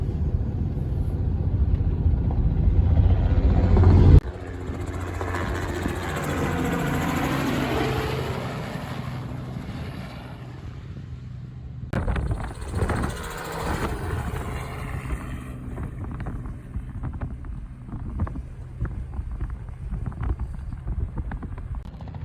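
Helicopter spraying a wheat field on a farm, a loud, continuous rotor and engine roar that shifts as it passes near, then fades and thins out as the aircraft moves away.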